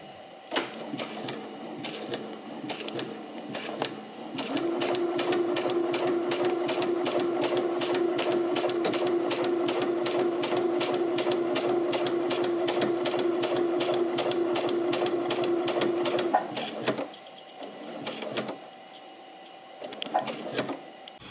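A sewing machine stitches a paper piecing quilt block, a loud, fast, even mechanical whir with rapid regular needle clatter running steadily for about twelve seconds, then slowing and stopping with a few short bursts.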